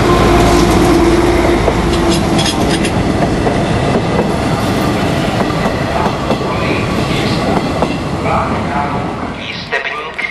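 A passenger train at Ostrava Svinov station rumbles close by, with loud, steady rolling wheel noise and rattling carriages that ease off near the end.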